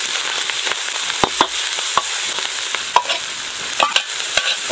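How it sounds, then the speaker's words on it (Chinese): Scallion and ginger stir-fry in hot oil in a wok, a loud continuous sizzle broken by sharp scraping clicks of a spatula, close up with no voices. "放入葱姜。"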